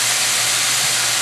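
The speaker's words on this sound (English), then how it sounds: "Stir fry for another minute or two." Hoisin chicken and vegetables sizzle loudly in a stir-fry pan, giving a steady, dense hiss close up with no pauses.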